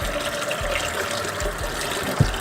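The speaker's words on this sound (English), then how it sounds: "Go ahead and rinse your sponge out." Water runs steadily from a tap as a sponge is rinsed out while cleaning a fryer, a continuous close gushing splash with small sloshing shifts and no talk.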